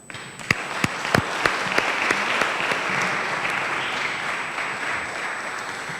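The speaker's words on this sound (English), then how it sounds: "maybe a round of applause" A live audience applauds after a fireside chat conversation, a dense, steady round of clapping with a few sharp individual claps standing out at the start, holding at an even level for several seconds.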